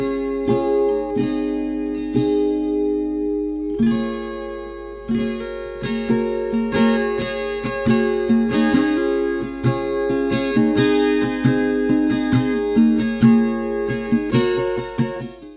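Bright, high-pitched strummed and picked guitar chords played with a capo, ringing out steadily, close and clear, with no talking.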